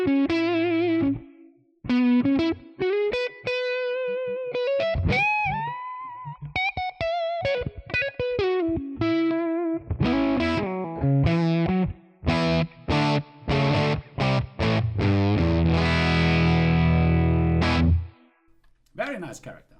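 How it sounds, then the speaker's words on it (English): Electric guitar solo on the neck pickup through a ToneX amp model with reverb, thick and distorted, flowing runs of sustained, bending notes that build to dense strummed chords before a sudden stop. "Let's add some reverb and try some solo stuff with a neck pickup."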